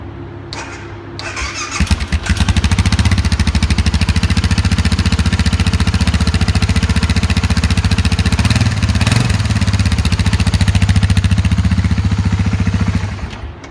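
A 2013 Husqvarna TR650 motorcycle's single-cylinder engine cranks, catches and settles into a loud, steady, thumping idle close by, running continuously until it cuts near the end.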